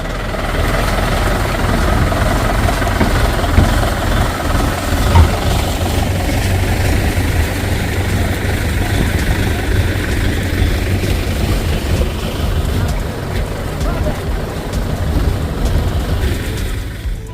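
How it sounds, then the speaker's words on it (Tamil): A tractor engine runs steadily in a farm field during the maize harvest, a loud continuous low rumble that stays near and unbroken throughout, with no voices over it. "அதுக்காக தான் இப்போ நம்ம வந்து டிராக்டரை வரவழைச்சிருக்கோம்."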